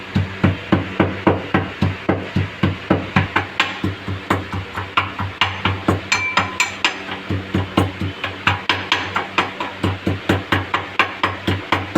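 Whole spices with red chili powder and garam masala pounded in a mortar and pestle for Gujarati kadhi, a steady loud rhythm of sharp hard strikes repeating about three times a second throughout.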